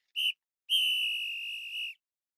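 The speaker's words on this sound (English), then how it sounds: "You've heard the whistle" A referee's whistle blown at the end of a football match: one short blast followed by a long sustained shrill tone, clear and fairly close, with no talking.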